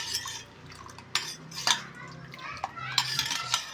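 A spoon stirring dal with fenugreek, salt and turmeric in a pot, with repeated scraping and clinking strokes of metal against metal, close up and irregular.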